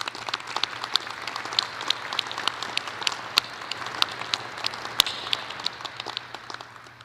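A large commencement audience at a university graduation applauds families and friends of graduates with scattered, fairly distant clapping that holds steady for several seconds.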